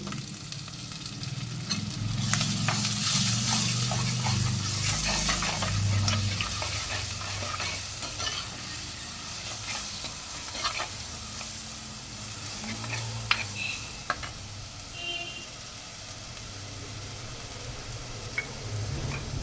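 Ground big onion paste fries in hot oil in a pan for Tamil puli kulambu, a steady close sizzle with scattered spatter pops and occasional stirring scrapes, no voices.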